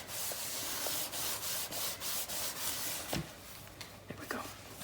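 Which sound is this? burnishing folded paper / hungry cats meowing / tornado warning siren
burnishing folded paper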